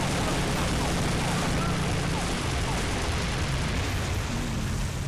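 Gunfire in the video game 007 Nightfire during a snowy alpine escape, a dense continuous rumble of shots and action noise throughout, with a voice talking over it.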